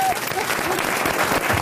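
A studio audience on a French radio show gives a short burst of applause, brief and moderately loud clapping with no pause.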